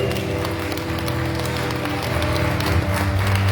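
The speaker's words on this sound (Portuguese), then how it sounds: "Você pode dar um forte aplauso no nome dele." Church congregation applauding during a worship service, a steady wash of clapping under loud sustained music with bass and chords throughout.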